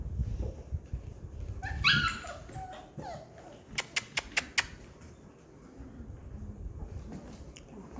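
Seven-week-old puppies from a litter of nine whimper and yip together, a busy mix of high squeals and short sharp yips scattered across the clip, with a quick burst of bright repeated yelps near the middle and a person speaking faintly beneath.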